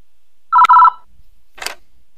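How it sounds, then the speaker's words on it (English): A telephone rings in the video game Five Nights at Wario's: one short, loud electronic ring burst alone, followed by a brief noisy blip after a pause. "Here's a phone call."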